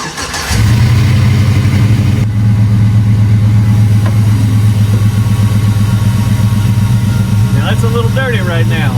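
A square body truck engine cranks and catches, then settles into a loud, steady, close idle with a deep rumble, a brief voice audible near the end.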